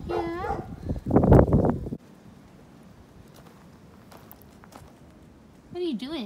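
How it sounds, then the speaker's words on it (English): Several dogs barking loudly outdoors in a quick burst, then a quieter stretch of outdoor ambience before a brief whimpering yip near the end; a person's voice is heard briefly at the start. "Oh, those are our other dogs. They're very loud."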